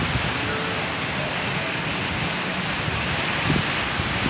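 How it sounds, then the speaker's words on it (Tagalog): Strong typhoon wind roars steadily at night, a broad, constant rushing with buffeting against the microphone and a faint rustle mixed in, loud and unbroken throughout with no speech. "Malakas na hangin."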